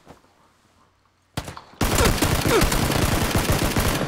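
Sustained fusillade of gunfire aimed at an opponent hiding behind a tree, starting after a quiet moment and continuing as loud, rapid, close shots.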